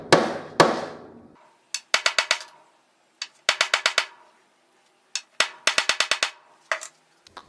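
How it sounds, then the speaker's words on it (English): A soft face hammer strikes a steel lathe headstock on a mini lathe, in several rapid bursts of three to five sharp taps with short pauses between, close and clear. "I'm using a soft face hammer because while I at least hope that this headstock is tool grade steel, hitting it with a steel hammer"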